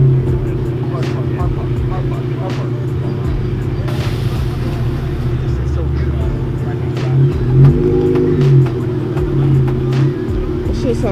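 A Dodge Charger idles and revs at a Cars & Coffee meet, its deep, rumbling exhaust steady and loud with a swell of revving partway through, while people talk nearby over the engine.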